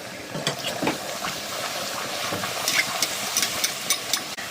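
Luchi, puffed flatbread, frying in hot oil, with a continuous close sizzle and hiss broken by small pops and soft clatter of a utensil stirring.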